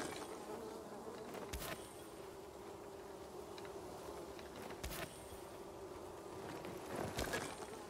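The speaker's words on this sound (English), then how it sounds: "I hear bees." A swarm of bees drones in Dying Light 2, a faint, steady low buzz that never lets up, broken by a few soft thuds.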